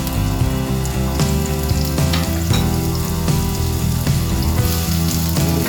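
Onions frying in hot vegetable oil in a pan, a loud continuous close sizzle with a few faint scrapes and clicks, no talking.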